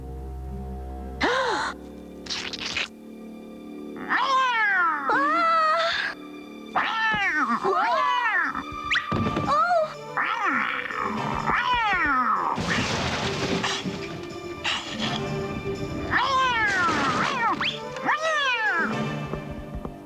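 A cat meows and caterwauls repeatedly in a children's television programme, with loud, drawn-out wailing cries coming in irregular bursts and brief gaps between them, plus a few noisy crashes partway through.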